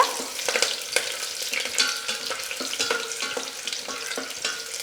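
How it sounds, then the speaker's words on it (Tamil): Cashews fry in hot oil in a pan as they are stirred steadily, giving a close, continuous sizzle with repeated scraping strokes throughout. "கொஞ்சம் முந்திரி பொன்னிறம் ஆகுற வரைக்கும் மிக்ஸ் பண்ணி விட்டுட்டே இருங்க"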